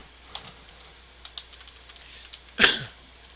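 Keys on a computer keyboard tap out a short, sparse run of clicks while a formula is entered into a spreadsheet, then one louder clack near the end, all quiet and close.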